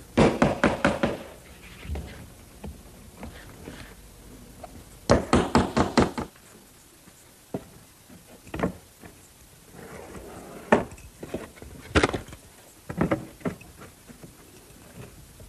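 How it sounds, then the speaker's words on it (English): Hammer tacking a straight edge onto a shingled dove cote roof, heard as quick bursts of close, sharp knocks, each a rapid run of blows, with single taps scattered between them and no talk. "now I'm going to tack on a straight edge and lay down the next course"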